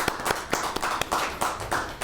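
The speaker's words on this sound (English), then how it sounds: "let's give him a round of applause" Chamber of commerce audience greeting a guest with a round of applause, though only a few distinct claps ring out, spaced and fairly close, over a soft murmur.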